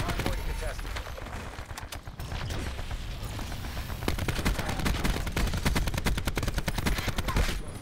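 Rapid automatic gunfire from a favorite weapon in the video game Black Ops 4, sustained bursts of crackling shots running nearly the whole time with loud peppering near the end, while a player talks over it.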